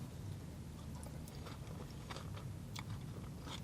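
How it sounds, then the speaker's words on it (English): Close, steady chewing and crunching of a full English breakfast mouthful of bacon, hash brown, egg, mushroom and beans, with repeated soft crunches over a low murmur and no talking. "So for this next bite, I've gone with bacon, hash brown, egg, mushroom and beans all together."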